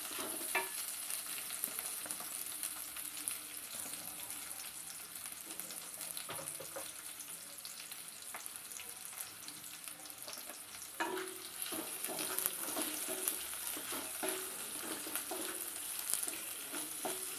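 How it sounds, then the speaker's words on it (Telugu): Onions frying in a clay pot over medium flame, cooked until brownish for a mushroom pulao: a steady, close sizzle runs throughout with occasional stirring scrapes and clinks, and no talk. "ఉల్లిపాయలు కొంచెం బ్రౌనిష్ కలర్ వచ్చేంత వరకు వేయించుకుందాం"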